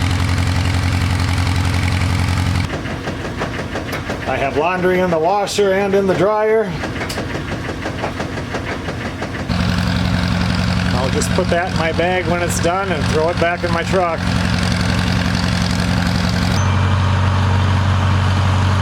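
An engine idles loudly and close by with an uneven, stumbling rhythm, misfiring on one cylinder, while a person talks over it for much of the clip.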